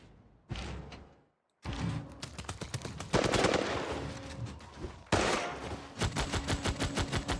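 Sniper units firing in Civilization VI: repeated loud bursts of rapid game gunfire, a brief silent gap early on, then volley after volley crackling close and dense, with no talk.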